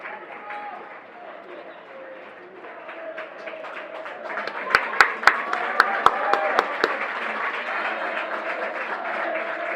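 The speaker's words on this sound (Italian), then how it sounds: "Esce tra gli applausi" Stadium crowd applauding a young red-and-blue player, born 2000, as he leaves the pitch as a substitute during the second half of a Torres–Trestina football match. Steady distant clapping runs under a commentator's voice, with a few sharp claps standing out near the middle.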